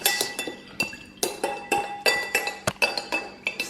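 A spoon or whisk clinks repeatedly against a bowl while mixing a poolish of flour, water and yeast, giving a brisk run of close, bright knocks and scrapes at an uneven stirring rhythm with no talk.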